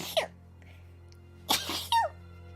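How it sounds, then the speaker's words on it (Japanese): A quick sneeze from a female streamer, one sharp burst near the start and another louder burst around mid-clip, close to the mic over a steady low hum, with brief vocal sounds afterward. "くしゃみが間に合わなかった。"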